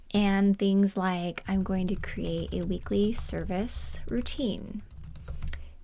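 Rapid keystrokes on a computer keyboard while planning lists for holiday activities, running steadily under someone talking close by throughout.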